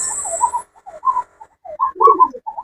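A pair of pigeons cooing close by, soft, throaty rolling coos in short uneven phrases with brief pauses between them.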